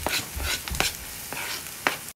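Vegan fried rice with pineapple and cilantro stirred in a hot pan, short scraping strokes over a soft sizzle in a brief burst.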